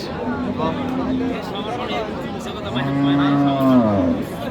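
Two long, deep moos from cattle ring out nearby with a hum of voices and crowd noise around them, at a busy livestock market in Aftabganj, Dinajpur.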